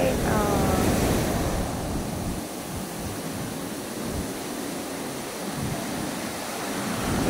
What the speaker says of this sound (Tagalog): Biglang laki ang alon